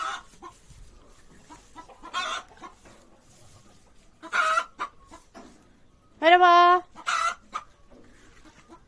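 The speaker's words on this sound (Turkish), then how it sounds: "Nerede tavuklar? Tavuk üstte çatıda." A hen clucks and cackles up close in a short bright burst from a village rooftop, with a few scattered bird calls and a brief spoken greeting nearby.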